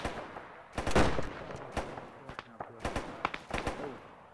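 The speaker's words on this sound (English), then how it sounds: "Definitely taking shots somewhere." Gunfire in a WW2 first-person shooter on the Arnhem map, a string of sharp irregular shots and short bursts, some close and loud, others fainter, over a low background.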